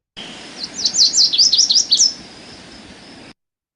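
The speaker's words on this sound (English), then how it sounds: "Lazuli bunting will perch up and will cock its head back and will belt out a song" A lazuli bunting sings a quick series of bright, rising and falling whistled notes, clear and fairly close, then stops, leaving quiet background hiss.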